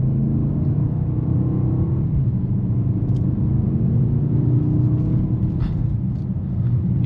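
A 2025 Mercedes-AMG GLE 63 S in sport mode with the exhaust valves open, a deep continuous rumbling drone with a slight rising rev, heard from inside the cabin.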